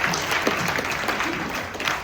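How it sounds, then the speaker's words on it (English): A venture night audience in Barcelona applauds, a dense and even patter of many hands clapping at moderate distance, with no voices over it. "One more round of applause."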